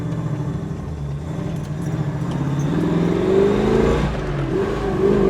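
A 1969 Chevrolet Camaro RS/SS driving on the road, heard from inside as a steady engine drone whose pitch climbs while it accelerates and then eases off, loud and continuous.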